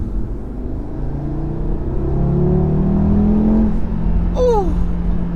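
An Audi RS3 engine pulls hard while accelerating onto a motorway. The loud, close, rising rumble swells steadily and is followed by a brief higher whine near the end, with no talk over it.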